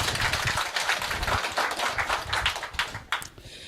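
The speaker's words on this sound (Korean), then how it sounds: "박수 한번 더 주세요." An audience claps after a speech at a business gathering, a dense burst of applause that stays lively for a few seconds and then thins out toward the end.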